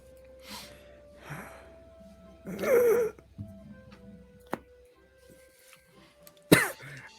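Several harsh coughs and throat-clearing sounds, close and loud, with a strong rasping burst near the end and quiet pauses between.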